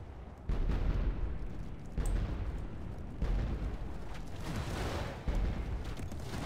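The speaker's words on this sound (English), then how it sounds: "These Empire mortars, especially like so in the early game, are just so overpowered." Empire mortars fire in a Total War: Warhammer battle, a steady run of heavy booming blasts roughly every second or so over a continuous rumbling din of the fight.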